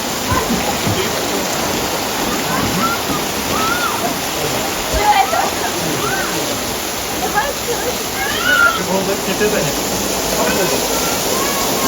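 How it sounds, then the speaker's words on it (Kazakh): The Talas river rushing beside a waterfall at night, a loud continuous roar of flowing water throughout with people talking over it. "Мына жақта Талас өзені ағып жатыр."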